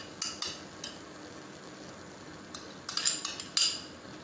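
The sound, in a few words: onion being put into a bowl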